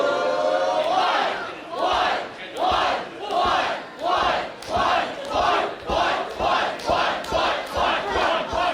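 A wrestling crowd chants in unison in a steady rhythm of about a dozen loud, evenly spaced shouts, each one counting along with a wrestler's punches in the corner.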